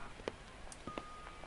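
An old telephone being dialed in the horror game The Groundskeeper, a faint run of short tone bursts spaced unevenly over a quiet background.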